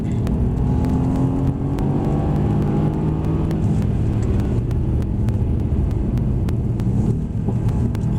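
Mercedes-AMG C63S engine accelerating hard on a race track, a loud, steady, close-up roar with rising harmonic drone and rumble sustained throughout without pause.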